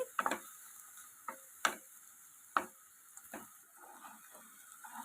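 Grated amla (gooseberry) frying in a pan for pulihora, a soft low sizzle broken by several sharp ladle taps and scrapes against the pan, close and quiet, with no talking.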